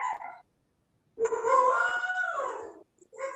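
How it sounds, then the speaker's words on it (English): Several dogs howl together indoors, a long wavering moaning cry lasting over a second, with shorter howls before and after, moderately loud and near. "Do you hear all my dogs howling?"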